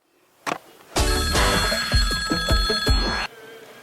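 A telephone bell rings loudly and close for about two seconds in rapid, rattling bursts for an incoming call, preceded by a brief click.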